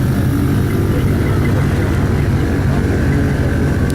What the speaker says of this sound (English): Oh, you hear the compressor going?